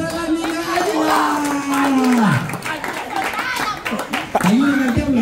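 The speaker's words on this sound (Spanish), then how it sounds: "Un aplauso para la niña Ena." A small group claps for a girl during a lively gathering. The moderate clapping runs under overlapping talk, a voice and some chuckling.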